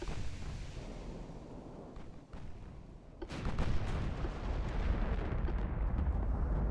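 Naval shell fire from warships in Ultimate Admiral Dreadnoughts, in a Germany 1940 campaign battle: a steady, dense rumble of distant gunfire that swells sharply partway through into loud, continuous booming and roaring.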